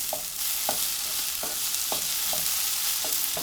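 Onions caramelizing in a pan give a constant close hiss of frying, punctuated by regular soft taps of a utensil roughly every half second.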